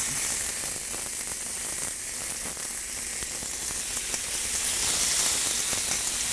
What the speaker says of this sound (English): get that sizzle, it'll start absorbing heat